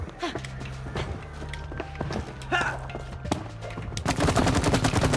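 Gunfire in the co-op video game It Takes Two: rapid, repeated shots crackle over a steady bed of game sound and grow into a dense, louder burst near the end.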